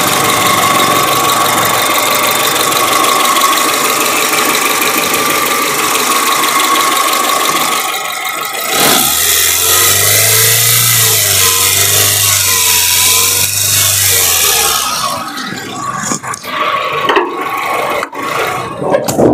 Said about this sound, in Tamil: இப்போ உங்களுக்கு மைக்கு நான் பக்கத்தில் வச்சு காட்டுறேன். இன்ஜினோட நாய்ஸும் நீங்கள் எப்படி இருக்குன்றதை பாருங்கள்.